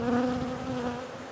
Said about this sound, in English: Bees are not happy with us right now